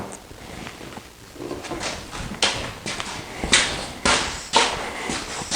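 Tiny half-inch staples fired into the back panel of a wooden thread storage cabinet: several sharp, close snaps spaced a second or so apart, with faint handling noise between them.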